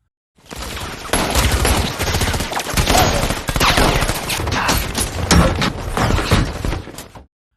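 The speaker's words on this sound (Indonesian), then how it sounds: "diberedeli oleh sejumlah tembakan dari setiap penjuru arah" Dense, continuous gunfire in a film crackles and booms for several seconds, many shots overlapping from all around, loud and close, with no pauses.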